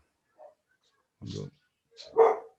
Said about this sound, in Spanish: Y no es tan grande el perrito, pero hace una bulla.